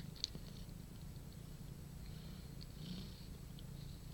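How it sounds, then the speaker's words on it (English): A Japanese Bobtail mother cat nursing a new litter purrs quietly and close, a soft continuous rumbling throb with a few small rustles. "I don't know if you can hear the purring through the video"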